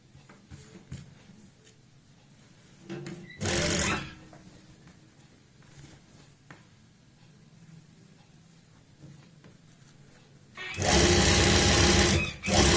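A sewing machine stitches a kurti in two loud bursts, a short one near 3.5 seconds and a longer run near the end. Fabric handling is faint in between.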